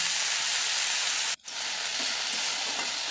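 Sarata greens stir-frying in a pan, giving a steady broadband sizzle with a brief dropout midway, close and loud with no talk.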